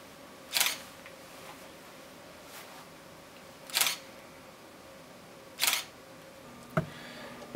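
Camera shutter clicks during water drop photography with a flash, three sharp isolated clicks a few seconds apart against a quiet room, followed by a fainter click and small handling noise.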